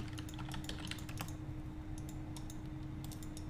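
Fingers tap quickly on a computer keyboard during a Starbound game session, a steady patter of light clicks over a constant low hum, fairly close and with no one talking.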